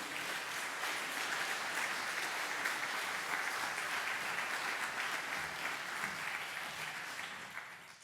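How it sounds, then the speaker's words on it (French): Audience applause at an official opening ceremony of an APF Bureau meeting in French Polynesia, a dense, even wash of many hands clapping, steady throughout before easing slightly at the end, with no voices over it. "je vous prie d'accueillir le président de l'Assemblée de la Polynésie française, M. Gaston Tong-Sang, sous vos applaudissements"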